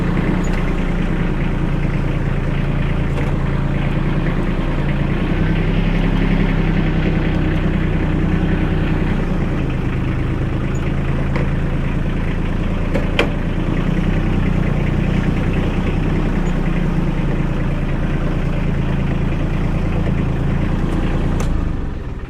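An ISEKI TK 25 compact tractor engine runs steadily at idle for over twenty seconds, a close continuous diesel chug with faint clicks as the power steering works.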